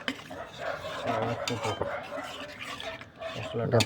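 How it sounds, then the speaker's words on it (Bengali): A spoon or spatula scrapes and stirs spice paste and water in a pan for tilapia fish curry, making soft clinks and sloshing close by while a person talks over it. "এই জলটা দিয়ে একটু ভালো মতন ঘেটে দিতে হবে"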